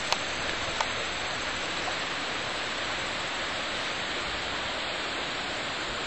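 A river runs past an off-grid cabin with a bridge in the distance, its water making a steady, broad rushing wash that holds an even level from start to finish, apart from a couple of faint clicks near the beginning.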